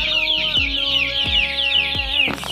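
Free-range village chickens cluck loudly and close together in a small-space farm, a dense, continuous chorus of overlapping calls with a few sharper clucks punctuating it.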